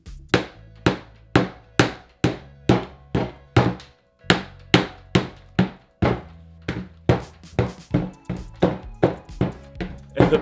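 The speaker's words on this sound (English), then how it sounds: "I'm just going to use the back of this knife to smash our chocolate piñata." The back of a knife smashes a chocolate M&M piñata, roughly twenty sharp, hard cracks in a steady, close rhythm, each a crisp knock with a short rattling tail as chocolate breaks, no voices.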